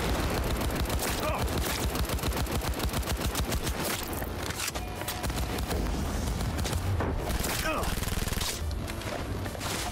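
Rapid automatic gunfire in Cyberpunk 2077, a fast steady stream of loud shots that continues almost nonstop with brief pauses and some speech mixed in.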